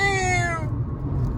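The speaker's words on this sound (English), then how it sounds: "Here's Critter the cat." A single cat meows loudly and close, a short rising-then-falling call that fades into low background rumble.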